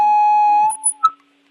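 A hearing aid being adjusted gives a steady, loud electronic beep held for over half a second, then a couple of short, high chirps before it falls silent.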